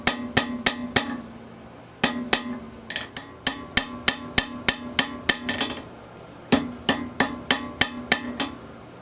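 A steel socket arrowhead is closed up on an anvil with a hammer: loud, ringing metallic blows land in quick runs of several strikes, separated by short pauses, close and clear with no talk.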